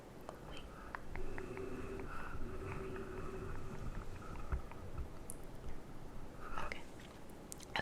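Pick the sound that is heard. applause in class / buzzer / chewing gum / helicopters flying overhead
chewing gum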